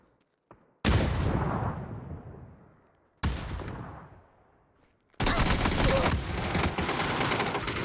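Three loud bursts of rapid gunfire in PUBG, each starting abruptly and trailing off, the last one sustained and dense, with no talking.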